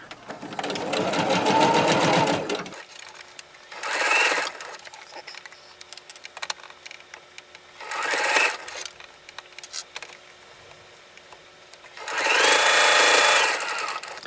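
A sewing machine chain piecing fabric runs in three short, loud bursts of rapid whirring stitching, each a couple of seconds long, separated by quiet pauses.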